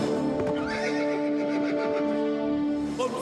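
The cartoon horse Toofan gives a long, loud whinny amid a clatter of hooves as the horses come to a stop, with music playing underneath.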